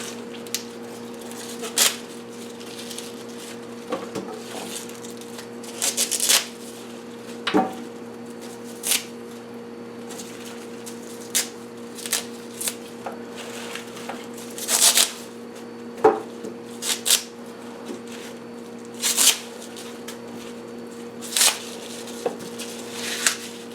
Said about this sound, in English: This is kale, removing the stems and the center rib wherever it might be a bit on the tough side.